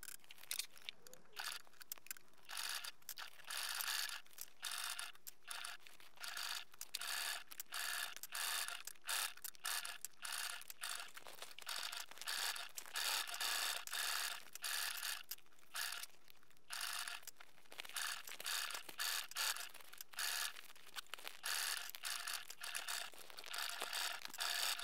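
A sewing machine stitches a toiletry bag, running in a long continuous stretch of rapid mechanical ticking and whirring close to the microphone, with short pauses and no speech.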